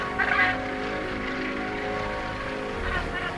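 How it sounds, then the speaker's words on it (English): Seabird colony on a rock in the Canadian wild, a female calling loudly on arrival over a dense, continuous clamor of many other birds. "It's a call her mate recognizes, even over the clamor of other birds."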